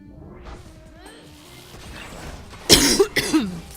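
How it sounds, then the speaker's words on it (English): A person gives two sharp, close coughs into a microphone, loud and sudden against quiet electronic game sounds. "sorry I'm coughing in your ear again."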